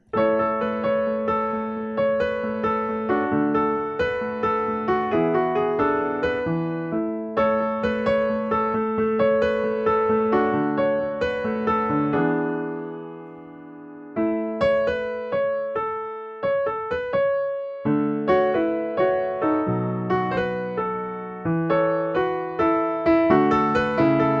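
Solo piano plays the intro of a song, a gentle melodic passage with chords and a repeating figure, pausing briefly midway before continuing; no voices.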